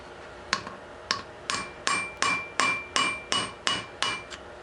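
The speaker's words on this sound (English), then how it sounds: "I'm going to try to drive the rivet through." A hammer strikes a small punch about ten times at an even pace to drive a rivet out of a tire inflater. Each strike is sharp, metallic and close, with no talk.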